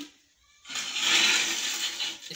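Dhamasa herb being washed in a bucket of water gives a sudden rushing, sloshing splash after a near-silent start, loud and close, continuing steadily.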